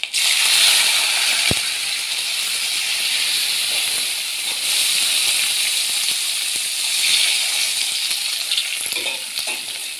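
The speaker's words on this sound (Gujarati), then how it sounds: "પછી આપણે કરી દઈશું વઘાર." Dried red chillies, asafoetida and curry leaves hitting hot oil as a tempering for khichdi, a loud continuous hiss and sizzle up close with one sharp click near the start, no talking.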